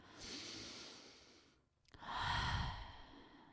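Two slow exhalations through the mouth during a calming prenatal yoga session, the first a long airy breath and the second louder and fuller after a brief pause, close and alone with no talk.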